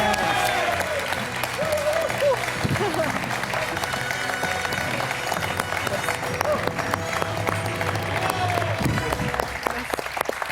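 A studio audience on a French television quiz show applauds in a dense, sustained wave of clapping for the full stretch, with a voice briefly audible beneath it.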